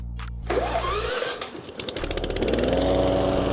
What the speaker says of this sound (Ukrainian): з ключа запустити вашу газонокосарку